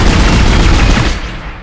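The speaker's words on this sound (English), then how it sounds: "So that's how the pulse rifle fires" A pulse rifle from Dead Space fires in a loud, rapid automatic burst, a dense stream of shots that fills the moment before tapering off.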